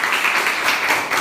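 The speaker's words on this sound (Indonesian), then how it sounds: "silakan tepuk tangan semua" A class of vocational-school students in Jakarta claps hands together, a steady dense patter of applause that holds at an even level for the whole moment without pauses.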